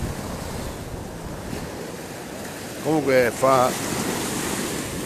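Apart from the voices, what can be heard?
ocean waves approaching the shore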